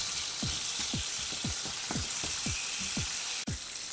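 Guanciale sweats in a pan with a continuous close sizzle, while a low rhythmic thumping pulse repeats about twice a second underneath.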